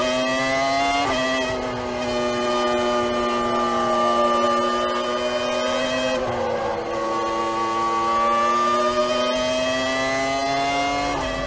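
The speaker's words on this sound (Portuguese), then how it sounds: "Pelo menos dá pra gente curtir aí o ronco do motor Ferrari da Sauber" A Sauber Formula 1 car's Ferrari engine screams at high revs, its pitch climbing steadily through gears with brief drops at shifts around two and six seconds, loud and continuous.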